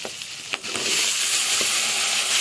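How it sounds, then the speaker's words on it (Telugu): Brinjal pieces frying in a pan, a loud, close, steady sizzle that swells after a couple of stirring scrapes at the start, with no voices. "ఇవన్నీ లైట్గా ఫ్రై అయిన తర్వాత ఇందులోకి మనం కట్ చేసి పెట్టుకున్న వంకాయ ముక్కలను యాడ్ చేసుకుని"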